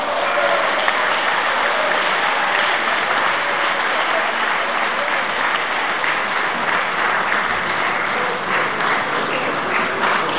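A crowd applauds steadily and loudly at an awards ceremony honoring the best youth players of the Lokomotiv football club, the dense clapping holding evenly for the whole stretch without talk.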